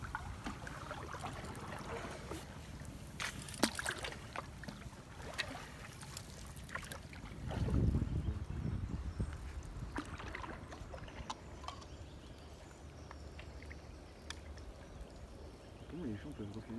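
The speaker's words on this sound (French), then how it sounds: "Vas-y, surtout, arrête pas de pagayer." A boat paddled through floodwater in Brimeux, with soft splashing and dripping paddle strokes and a brief surge of water, while people talk nearby.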